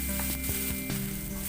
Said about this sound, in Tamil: இப்போ நான் ஏற்கனவே நறுக்கி வச்சுருந்த பூண்டை நான் ஃபஸ்ட்டு போட்டுக்கிறேன்.